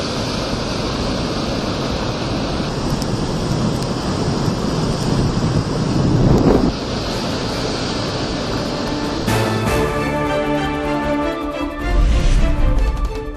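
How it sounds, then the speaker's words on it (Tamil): Rough sea waves crash along the Puducherry coast in a loud, continuous roar of surf and wind, with bursts of heavier breakers and rumbling gusts across the microphone. "புதுச்சேரியில் கடுமையான கடல் சீற்றம்."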